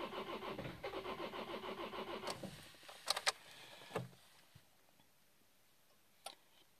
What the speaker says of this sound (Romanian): Încercăm dacă se va porni motorul.